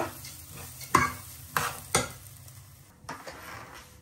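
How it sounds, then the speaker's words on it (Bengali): Rice stirred and fried in a pan for biryani, a soft scraping stir with a few sharp clinks of spoon on the pan at irregular intervals over a faint sizzle, close and fairly quiet. "আর চালটা সুন্দর করে একটু ভাজা নিতেছি, বিরিয়ানিটা সুন্দর ঝরঝরা হইব।"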